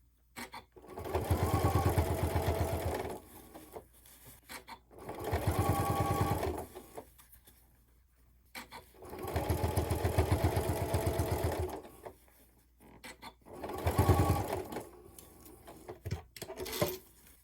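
A sewing machine stitches a bag seam in four steady whirring runs of a few seconds each, close and clear, with brief quiet gaps and small handling noises between them.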